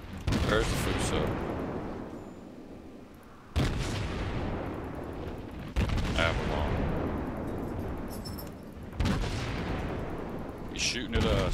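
Battleship guns fire in the World of Warships video game, about five deep, loud booms each rolling off into a long rumbling decay.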